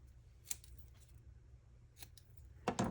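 Scissors snip paper while cutting out a photo for a cruise-themed scrapbook layout, a couple of quiet isolated clicks followed by a louder closing crunch of blades near the end.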